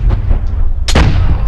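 A huge Glock pistol fires in the virtual-reality game Bonelab: one loud, sharp booming shot rings out after a brief low rumble, then a short fading tail.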